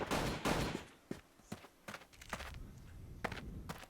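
Rapid bursts of video game gunfire, several sharp shots in quick succession at the start, then scattered single reports and softer thuds, loud and close.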